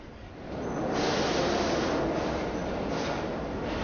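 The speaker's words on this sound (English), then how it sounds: "This is the sound of the New York subway heard by a young person." A New York subway train roars along the tracks, a loud, broad rushing rumble that builds quickly and holds steady with faint rhythmic pulses of wheels.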